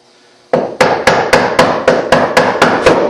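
A chisel driven into wood by a mallet while hand-cutting dovetails: nine loud, sharp, evenly spaced strikes in quick succession, close up and alone after a brief quiet moment.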